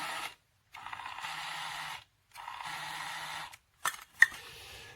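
A toy kitchen's small battery-powered mini blender with its mixing bowl whirs in two steady bursts of about a second and a half each, followed by a few brief clicks and knocks, close and fairly quiet.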